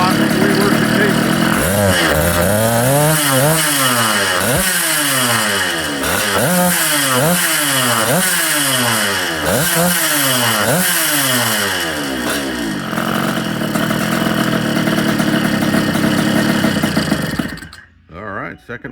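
A Yamaha KT-100A rotary valve kart engine with a KT-100 barrel, reworked cases and Lynn Haddock carburetor, running on methanol during break-in, revs up and down in a steady repeating rhythm, loud and close, then cuts off near the end.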